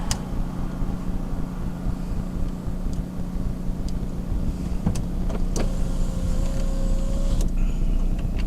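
Steady low rumble inside a car, with a few soft clicks and thumps and a brief whine toward the end, no one speaking.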